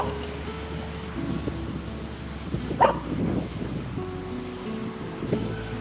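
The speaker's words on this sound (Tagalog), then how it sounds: "Ay, may aso." A dog barks outdoors with the sea nearby: one short, sharp bark at mid-distance stands out over steady surf and ambient noise, with a fainter sound near the end.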